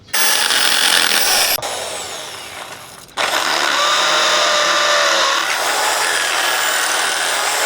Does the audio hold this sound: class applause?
no